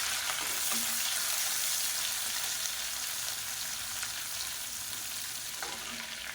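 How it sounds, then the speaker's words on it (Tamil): Curry leaves and chopped green chilies fry in oil for semiya upma, giving a steady, even sizzle with a few faint stirring scrapes, moderately quiet and close. "இது எல்லாத்தையும் பொன்னிடமாக வறுத்துக்கலாம்"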